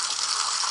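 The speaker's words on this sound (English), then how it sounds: "You have a little bit of water sound in the background." A short, steady hiss of rushing water plays through the small speakers of an ASUS X205 laptop during a test video, fairly loud and unbroken for under a second.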